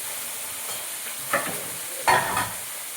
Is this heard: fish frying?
yes